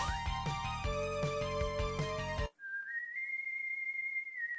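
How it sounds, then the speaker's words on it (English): A melodic whistle in the Mega Man 7 video game, first mixed with chiptune music and percussion, then after a brief cut a single sustained whistle tone rises slightly and holds alone. "Remember that whistle?"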